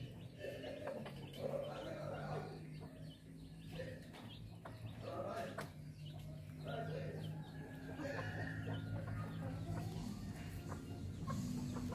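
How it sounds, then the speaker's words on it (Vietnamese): Free-range chickens, a hen and rooster flock with young chicks, cluck softly and continuously in a yard, a low murmuring chorus with occasional sharper calls, fairly close and unhurried. "Cái gà này mình nuôi mấy năm rồi đó cả nhà."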